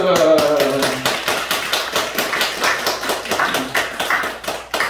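Applause at a church celebration, with many hands clapping in a rapid, uneven patter that stays fairly loud and steady and carries a few brief voices under it.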